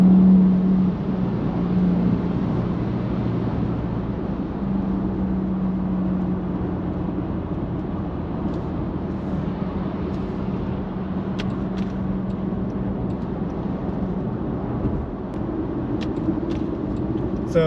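A Jaguar XF (X260) accelerates on kickdown, its engine a continuous, moderately loud drone and road rumble heard from the cabin for a long stretch.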